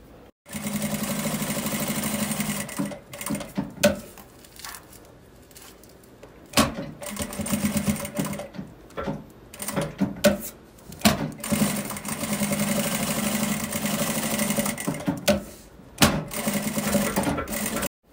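A sewing machine runs in long bursts while stitching fabric for a thermal bag, pausing briefly between runs, close and steady throughout.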